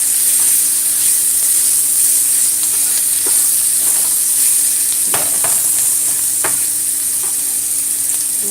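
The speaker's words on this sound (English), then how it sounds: "Alright, so you just incorporate the garlic." Garlic sizzles steadily in a hot frying pan for shakshuka, a continuous bright hiss with scattered scraping clicks of a utensil stirring, close and loud with no talking.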